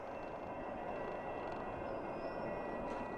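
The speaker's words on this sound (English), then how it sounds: "we're gonna cross the train tracks here while we wait for the train to cross" A train rolls past a railroad crossing as a steady, dense rumble and rush of wheels on the tracks. A faint metallic squeal sounds partway through, and the noise holds at a constant level throughout.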